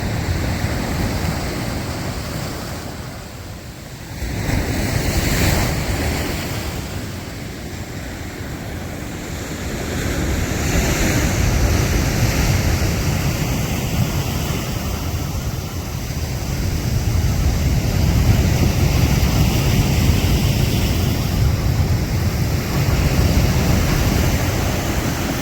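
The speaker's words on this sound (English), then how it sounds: "You can actually hear the big stones being moved up the beach." Surf washing over a stony beach, heavy waves churning and dragging large stones up the shore, a steady broad roar that swells and ebbs for the whole stretch with gusty wind buffeting in, no voices.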